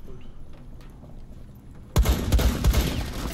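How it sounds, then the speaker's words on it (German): Sniper rifle fire in the game Rainbow Six Siege: after a quiet stretch, a sudden loud, close report breaks out, followed by several more sharp shots in quick succession. "Alter, Snipe-Schüsse und er geht nicht down."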